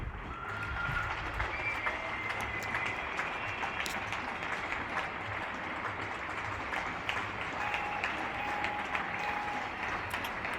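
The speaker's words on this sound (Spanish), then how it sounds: "Os dejo este aplauso que dan a diario todos los vecinos al personal sanitario" Neighbours across Spain applauding health workers from their homes in the evening, a long, distant, continuous patter of clapping echoing over a low background rumble, with faint voices.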